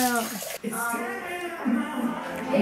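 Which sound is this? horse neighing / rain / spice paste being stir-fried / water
water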